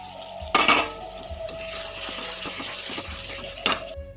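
Katla fish pieces dropped into spiced tomato-cashew masala in a pan for aloo katla jhol, with two sharp clattering impacts of pan and utensil over a low background hum, no talking.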